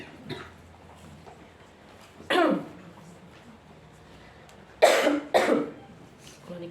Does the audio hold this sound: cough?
yes